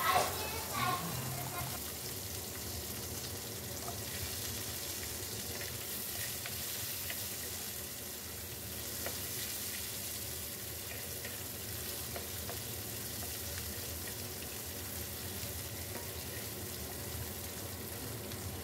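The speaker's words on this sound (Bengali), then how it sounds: "এবার দিয়ে দেবো পেঁয়াজগুলো হালকা করে ভেজে নেব" Onions frying in mustard oil with bay leaf in a kadai, a continuous even sizzle and hiss close by, with a brief clatter at the start as they go in.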